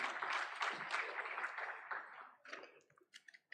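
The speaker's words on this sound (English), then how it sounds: "A round of applause for him." Audience at a trade review conference applauding, dense clapping for about two seconds that thins out into a few scattered claps before stopping.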